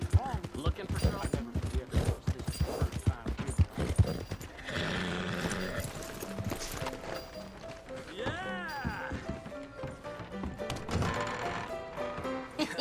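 Horse hooves clip-clopping in the western video game Red Dead Redemption 2, a steady run of quick hoof taps under game music, with a horse whinny and voices talking over it.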